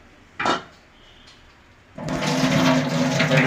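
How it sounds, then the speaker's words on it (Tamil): Soaking water poured off washed rice for an open-pot, straining-method cook: a brief splash early, then a loud, steady rush of water pouring and draining for the last second and a half, with no voices. "அந்த ஊற வச்ச தண்ணியை வந்து க்ளீனாக வடிகட்டிடுங்க"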